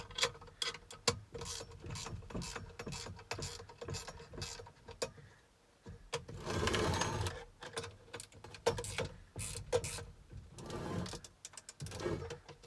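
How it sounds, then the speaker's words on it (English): A ratcheting screwdriver turns a screw while working on a vermiculite-filled space, giving dense runs of small clicks at close range with a few brief pauses and a busier rustling stretch midway. "I really like these ratcheting screwdrivers."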